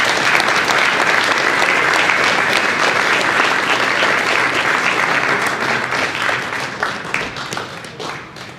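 Audience applause at an Eagle Scout Court of Honor, a loud, steady crowd clapping that carries on for several seconds and tapers slightly near the end.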